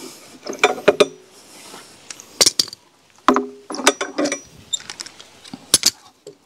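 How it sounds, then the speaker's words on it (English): Metal clamps are loosened and pulled off a log during a dovetail log cabin build, with a series of sharp clanks, ratcheting clicks and knocks in irregular clusters, close by. "Take my clamps off here."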